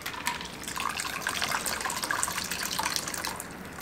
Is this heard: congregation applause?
no